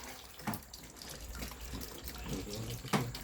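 Water runs steadily from a tap into a sink, a continuous wash of sound with a couple of louder splashes.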